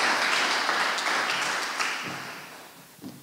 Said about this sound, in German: Besonderen Applaus für Frau Zahre